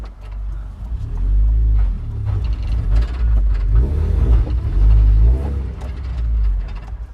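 A Mazda car drives and turns around, its engine a steady low rumble heard from inside the cabin, swelling and easing as it manoeuvres, with no talking.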